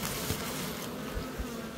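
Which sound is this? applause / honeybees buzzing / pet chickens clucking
honeybees buzzing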